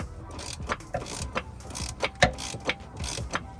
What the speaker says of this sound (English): you just gotta tighten this and it'll pull the yoke out